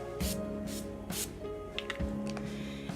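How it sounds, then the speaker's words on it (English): A hydrating setting spray spritzed onto the face in three quick, close bursts of fine hissing mist, with soft breathing and small handling clicks between them. "I'm just gonna give my face a little spritz"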